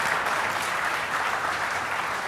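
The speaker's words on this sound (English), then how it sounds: "give a hearty round of applause one more time for all the awardees" An audience at a management convention gives sustained applause for awardees, a dense, steady wash of clapping with no talk over it.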